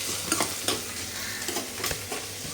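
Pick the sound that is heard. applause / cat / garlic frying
garlic frying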